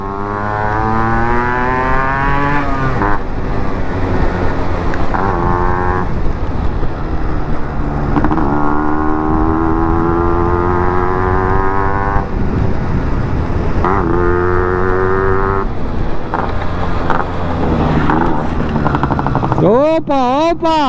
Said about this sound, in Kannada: Wow, D250 classic. ಒಳ್ಳೆ ದಮ್ ಕೊಡ್ತೈತೆ ಗಾಡಿಗೆ.